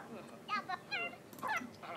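A dog in The Sims 4 gives several short yips and whimpering barks in quick irregular bursts, fairly quiet, with faint game ambience underneath.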